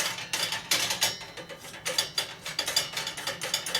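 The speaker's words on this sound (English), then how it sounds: "Going to run the nut all the way down so that we don't have a finger pinching situation here." A nut is threaded onto a part of an antique bronze chandelier, giving a run of quick metallic ratcheting clicks and scrapes in close, uneven bursts, with no speech.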